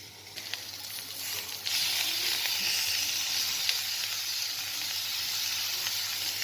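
Ground spice paste hitting a hot pan for eggplant masala: a soft sizzle that jumps abruptly louder after a moment and then holds as a bright, steady, close frying hiss.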